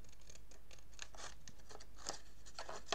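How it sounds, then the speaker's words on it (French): Scissors snip steadily through paper for a straight cut to a corner, a quick series of crisp close-up crunching slices with no voice. "Je vais venir le couper droit jusqu'à l'angle, mais en m'alignant juste après le pli."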